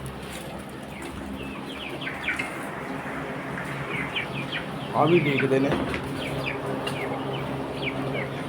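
Desi chickens, large hens, cluck and call around a feed dish at feeding time, with the calls rising briefly louder midway, under steady background chirping and someone talking nearby.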